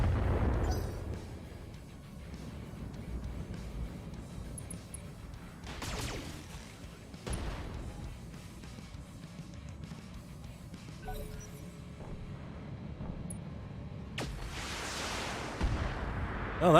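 Weapon fire in the BattleTech mech combat game, a deep booming blast at the start followed by several sharp loud impacts and rumbling explosions spread across the stretch, with a rising whooshing burst near the end.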